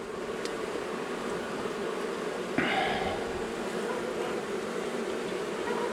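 Honey bees buzz during a beehive cutout, a dense continuous drone close by with one sharp knock midway, and no talk.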